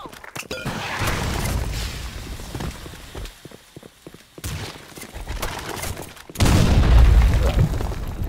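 Grenade blasts in the shooter game Blackshot, heavy booming bursts that rise, fade and return louder near the end, with rattling debris and footstep-like clatter, fairly loud and close, no speech.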